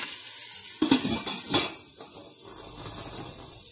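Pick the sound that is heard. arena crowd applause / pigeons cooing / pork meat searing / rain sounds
pork meat searing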